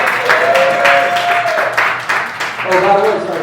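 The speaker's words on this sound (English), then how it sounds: "So give him a round of applause." Audience applause for a slam poet at a Denver studio event, a steady wash of clapping across the whole stretch, with voices and a sustained tonal line running through it.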